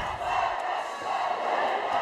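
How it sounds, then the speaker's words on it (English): A high school basketball student section chants a roller coaster ride cheer in a gym, a steady crowd roar of massed voices rising and falling in the distance. "standard Rocky Mountain Lobo roller coaster ride cheer, trying to get the frenzy going"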